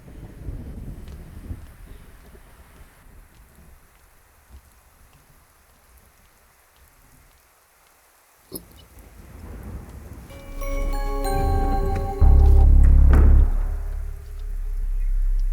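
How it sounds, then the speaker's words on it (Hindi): Heavy rain pouring steadily during a night storm, building to a loud, close thunderclap with rumbling near the end, no voices. "एक तो बारिश भी नहीं रुक रही"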